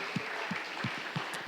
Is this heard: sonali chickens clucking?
no